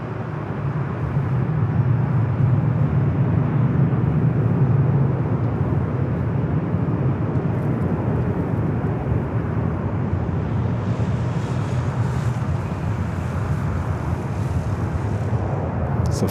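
Delta airliner taking off on runway 24 right at Los Angeles International Airport, a steady loud jet roar rumbling continuously from a distance throughout, with wind on the microphone and no talk.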